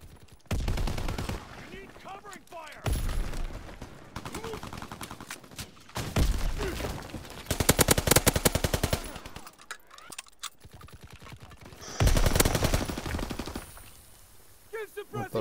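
Bursts of rapid automatic gunfire in Call of Duty: WWII, several loud rattling volleys separated by short pauses, close and harsh, with a player's voice talking between the shots.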